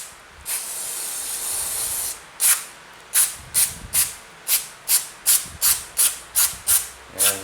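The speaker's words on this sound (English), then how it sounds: "This really does spray." Aerosol cleaner sprayed on a Briggs & Stratton Intek engine during head gasket work. A long hissing burst comes first, then a quick run of about a dozen short, sharp spray bursts close by, with no talk.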